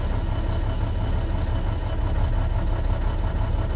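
A 2012 Maxxforce DT diesel engine with a failing injector idles steadily and close during an injector cutout test, giving a constant, dense low rumble with no voices over it.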